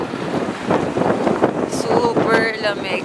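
Strong, cold winter wind in Tokyo buffets the microphone in steady gusts while people talk nearby and a few higher sounds cut through.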